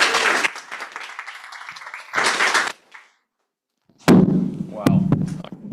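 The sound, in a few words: audience applause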